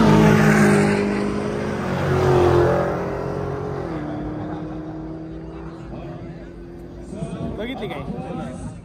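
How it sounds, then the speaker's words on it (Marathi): A Dodge Challenger drives past during a lineup of luxury cars and sport bikes, its engine rumbling loudly, easing off, then revving again near the end, with someone talking over it throughout. "मित्रांनो आत्ता जी गाडी येते ना इथे, ती गाडी आहे डॉजची कोणती गाडी, डॉज चॅलेंजर येते. आवाज आहे का?"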